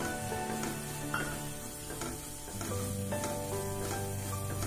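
Roasted chilli powder mix frying in oil for a mango pickle, a steady close sizzle with soft stirring scrapes running throughout and no talking.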